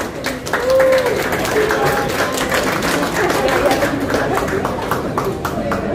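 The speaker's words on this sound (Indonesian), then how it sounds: "Sekali lagi boleh kita berikan tepuk tangan yang meriah." A crowd gives sustained, dense applause at a press conference for a series shooting kick-off, with steady clapping throughout and voices talking underneath.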